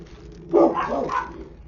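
A single short bark or yip from a dog indoors on a snowy day, faint and fairly close, with a brief whine-like tail.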